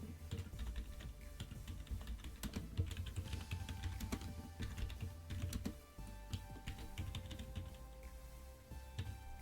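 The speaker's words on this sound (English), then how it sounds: "we're going to type in the item that we want to sell" Fingers tap out an eBay listing on a computer keyboard in quick, irregular bursts of close clicking keystrokes with brief pauses, and no one speaks.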